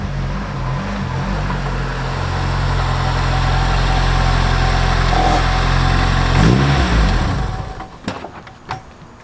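A 1993 Nissan Sentra SE-R engine runs steadily and fairly loudly up close, rising slightly before cutting off near the end, followed by a few brief clunks.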